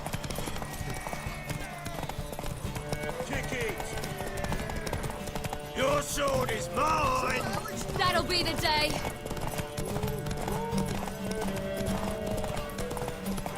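Rapid clip-clop of galloping horse hooves during a race in The Witcher 3: Wild Hunt, pounding steadily beneath game music and spoken dialogue, with a horse whinny rising partway through.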